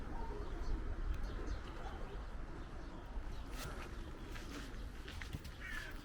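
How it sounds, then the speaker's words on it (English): Caged pigeons coo faintly in a city setting in Reșița, Romania, their soft calls barely rising above a steady wash of outdoor background noise, with no talk. "They even have like caged pigeons."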